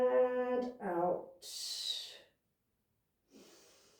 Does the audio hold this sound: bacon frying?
no